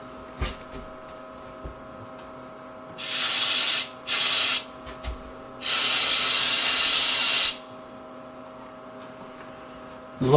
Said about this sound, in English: I'm pulling on that to purge CO2 through the line